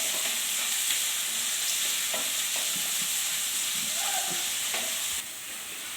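Tomatoes fry with salt in a pan for chutney, a bright continuous sizzle heard up close with a few spoon scrapes and stirring knocks, dropping slightly in level near the end.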